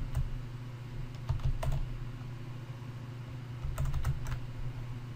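Bursts of typing on a computer keyboard with quick clustered clicks in two short flurries, fairly close, over a steady low machine hum with no talking.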